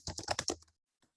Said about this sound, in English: I'm typing it in there.